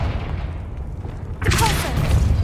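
A Confringo spell goes off in the game Hogwarts Legacy: a low background rumble gives way to a sudden loud, fiery burst with crackling and a sustained whooshing tail.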